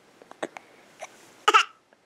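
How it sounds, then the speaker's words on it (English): A young boy hiccups in the morning, with several small catches and breaths leading to one louder, sharp hiccup, close and fairly clear in a quiet room. "Still got the hiccups"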